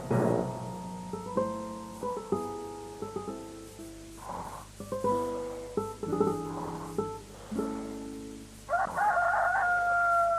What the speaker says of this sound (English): That's the cockerel crow, Princess Holly.